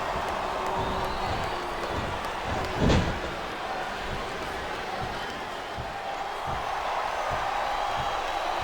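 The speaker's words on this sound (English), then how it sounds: "Listen to the crowd, JR." Wrestling arena crowd at a Royal Rumble Last Man Standing match, a dense, steady roar of cheering fans filling the space, with one brief thud partway through.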